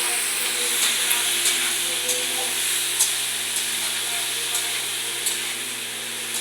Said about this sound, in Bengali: এবারে এটা ভাজা হতে থাকবে।